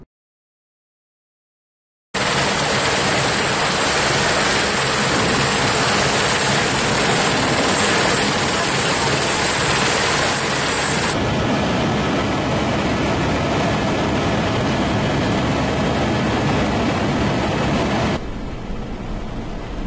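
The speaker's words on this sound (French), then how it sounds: "nous pouvons regarder un vol en hélicoptère dans le Grand Canyon" Helicopter flying over the Grand Canyon, a loud, steady rotor and engine roar that holds for most of the stretch, shifting in tone partway through and dropping slightly near the end, with no voices.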